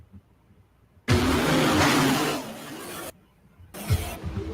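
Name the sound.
tractor engine in a played video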